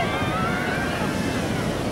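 Ocean surf at Kukup Beach, Gunung Kidul, Yogyakarta, during low tide, a constant loud wash of waves mixed with wind buffeting the microphone.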